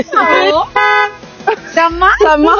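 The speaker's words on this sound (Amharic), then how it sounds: "ክላክስ እናርግለት።" A car horn honks in celebration of a newly bought car, a short steady toot set among lively voices talking before and after it.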